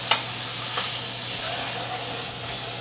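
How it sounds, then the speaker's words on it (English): A pork roast sears fat side up in a hot pan, giving a loud, steady sizzle and hiss that runs throughout with a few sharp pops near the start. "Let that sear right there"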